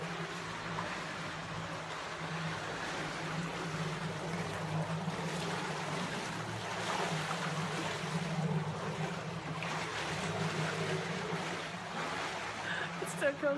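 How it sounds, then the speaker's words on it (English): A boat passes on open water, its low steady engine hum droning at moderate distance beneath a constant wash of water and wind noise. "Oh, apparently there comes one more boat."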